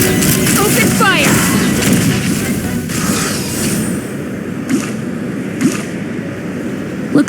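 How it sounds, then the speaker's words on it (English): Gunfire and booming shots in the video game Genshin Impact, a busy stretch of repeated blasts and impacts mixed with battle noise and a brief voice, fairly loud throughout. "Open fire!"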